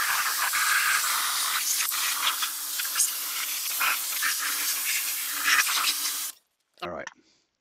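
A pressure washer sprays water onto a car during a rinse, a loud steady hiss with a faint whine underneath for about six seconds before cutting off, followed by a brief spoken remark.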